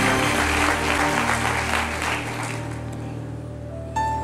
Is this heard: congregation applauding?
yes